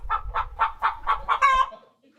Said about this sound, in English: Would you like to try and guess the mood of some chickens?